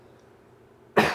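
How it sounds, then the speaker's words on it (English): A single short, close cough rings out at the very end after near silence, sharp and breathy like a throat being cleared. "apologies if I end up coughing during this solve"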